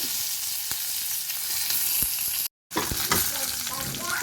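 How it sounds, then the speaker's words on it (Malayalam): Dried chillies and curry leaves crackle and sizzle steadily in hot oil with popping mustard seeds, a bright continuous frying hiss that cuts out for a moment and then returns with a few sharp pops. "കടുക് പൊട്ടിയതിന് ശേഷം നമ്മൾ വറ്റൽമുളകും അതുപോലെ തന്നെ കറിവേപ്പിലയും കൂടെ ഇട്ട് കൊടുക്കുന്നുണ്ട്"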